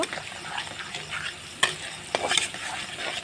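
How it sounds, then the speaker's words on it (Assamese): Goat meat pieces fry in oil with a spoonful of turmeric in a pan while a spatula stirs them, a soft continuous sizzle broken by a few sharper scrapes and taps of the utensil. "আকৌ আমি এনেদৰে ফ্ৰাই কৰিব লাগিব"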